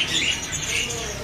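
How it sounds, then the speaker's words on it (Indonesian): A cabe-cabean bunga api flowerpecker calls in a bird market, giving a few thin, high chirps over a busy background of other birds. "Ready juga burung cabe-cabean bunga api ya."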